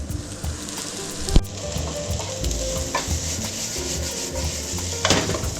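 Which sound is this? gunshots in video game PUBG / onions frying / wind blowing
onions frying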